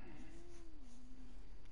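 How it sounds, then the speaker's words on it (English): A cat lets out a single low, drawn-out grunting moan that dips slightly in pitch, faint and close over a steady background hum. "You are the gruntiest cat I know."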